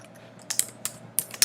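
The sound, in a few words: typing an address on a computer keyboard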